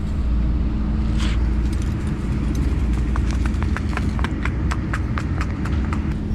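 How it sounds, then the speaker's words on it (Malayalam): Horse hooves clip-clop in a steady trotting rhythm that grows clearer over a constant low rumble of traffic. "അവൻ ആ കുതിരയും കൊണ്ട് അങ്ങോട്ട് പോയിട്ടുണ്ട്"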